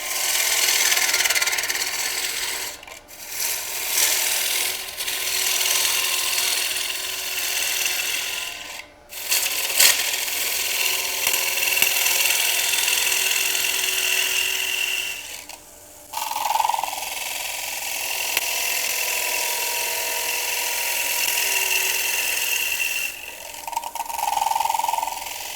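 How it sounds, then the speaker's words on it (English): A wood lathe hollowing out a turned bowl gives a steady, rasping scrape of the tool in the spinning wood, close and continuous with a few brief pauses between passes. "notice what I'm doing is I'm hollowing sectionally"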